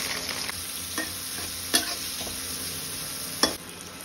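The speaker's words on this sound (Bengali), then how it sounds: "তো এখন আমি খিচুড়ির মশলাটা খুব ভালোভাবে কষাই নিব।" Khichuri masala and hilsa fish sautéing in a pan, with a continuous close sizzle, a steady stirring scrape and two sharp utensil knocks against the pan.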